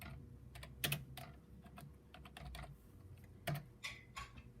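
Someone types on a computer keyboard during Windows 2000 setup on a Compaq Presario 7594, making soft, quick, irregular key clicks with a couple of louder thumps, probably the space bar or enter key.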